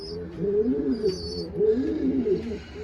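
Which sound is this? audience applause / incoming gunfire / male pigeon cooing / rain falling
male pigeon cooing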